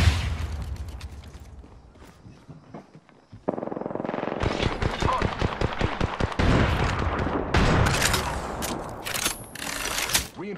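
Gunfire in the Apex Legends battle royale game, with rapid automatic bursts and sharp shots that come in dense clusters, loud and close, in a busy firefight.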